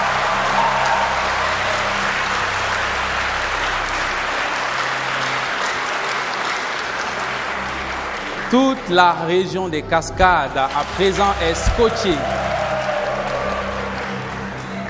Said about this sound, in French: je vais demander à tous ses supporters de l'applaudir très très fort.